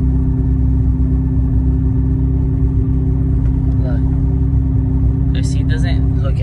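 A Corvette engine with a fault left in neutral holds a loud, steady high-revving drone with no throttle applied, deep and close, while a voice briefly speaks over it near the end.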